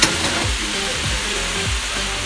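Washed carrots fry in a hot pan for egg rolls, a steady close sizzle with a soft low rumble underneath and a brief bump at the start.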